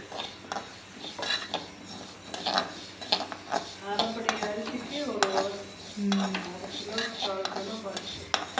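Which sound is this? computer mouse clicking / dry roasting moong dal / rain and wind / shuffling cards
dry roasting moong dal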